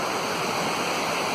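Creek water rushing far below a steep chasm near Saw Blade Falls on Burke Mountain, British Columbia, a steady broadband roar without pause and no voices.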